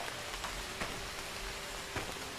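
Steady rain falls in the video game My Time at Sandrock, a continuous soft hiss of drops on surfaces with a few louder individual patters, heard alone without talking.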